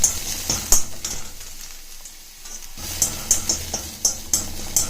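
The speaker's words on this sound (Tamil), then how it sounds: "இந்த பூண்டை நல்லா வறுத்துக்கோங்க ஃப்ரெண்ட்ஸ்" Garlic frying in a little oil in a pan, a steady sizzle broken by the clinks and scrapes of a spoon stirring, close and moderately loud.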